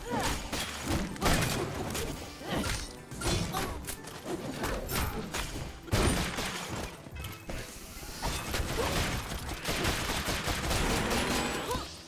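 Enemy gunfire rattles through a chaotic co-op fight in the video game Full Metal Furies, dense bursts of shots and crashing impacts layered loudly and continuously, with players talking over the action.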